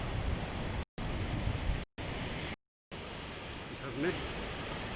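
A mountain waterfall near a bridge gives a steady, loud broadband roar of rushing water, close and continuous, briefly cut off a few times before resuming.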